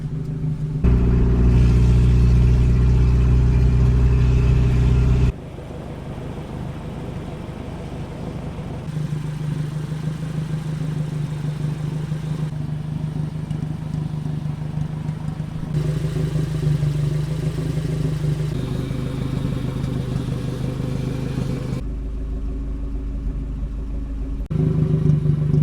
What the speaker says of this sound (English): Now that the clutch cable has been adjusted, the car drives a ton better.